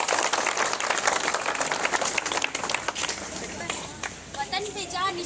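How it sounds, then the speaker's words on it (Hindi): A crowd applauds loudly at an Independence Day celebration in Kaladhungi, with dense clapping filling the opening seconds and thinning toward the end, and a voice speaking over it. "जोरदार तालियों से"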